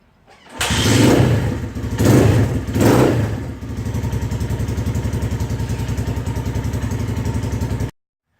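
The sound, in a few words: motorcycle engine cold start with one kick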